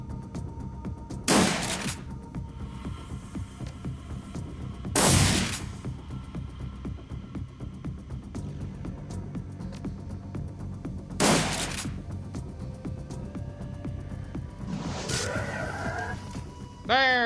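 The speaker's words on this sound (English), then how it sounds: "Get the shotgun out." Shotgun blasts ring out in the cyberpunk game Shadowrun: Dragonfall, four sharp, widely spaced loud bangs, each with a brief crack and short decay, over a steady low game ambience with a rising whistle near the end.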